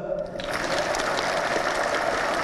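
An audience at a Thai political speech breaks into applause that starts abruptly, then holds as a dense, steady wash of clapping, fairly loud.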